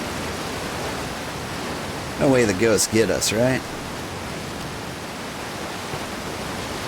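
A waterfall pours down in the video game Outer Wilds as a steady, rushing roar that never lets up. It is briefly overlaid by a person speaking partway through.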